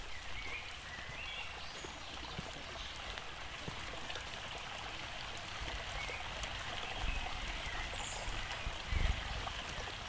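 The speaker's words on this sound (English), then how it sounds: "You hear water in the distance." River water flows steadily somewhere far off, a soft, even wash of rushing and trickling that holds at a low level throughout, with no voices over it.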